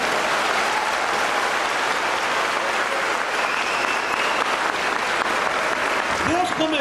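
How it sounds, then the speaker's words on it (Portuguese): A church congregation applauds in a steady, dense wash of clapping that fills the whole stretch at an even level, with a brief voice or shout rising near the end. "Pode aplaudir, querido."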